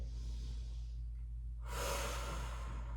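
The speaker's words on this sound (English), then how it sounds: "hold it here, and take a couple of really deep breaths in" Deep breathing during a Pilates mat stretch, a soft close inhale followed by a louder, breathy exhale, heard alone against a low steady hum.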